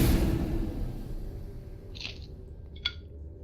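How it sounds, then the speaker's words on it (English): Stepping-through-a-portal sound effect in a tabletop role-playing game session: two short, airy whooshing bursts about a second apart, the second sharper, set over a steady low background rumble. "This is the sound of you stepping through the portals"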